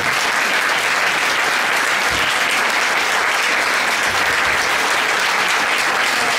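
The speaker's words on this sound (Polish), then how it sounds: "Wielkie brawa" A concert crowd at Firlej applauds with dense, continuous, loud clapping that holds evenly throughout, with no break and no voices above it.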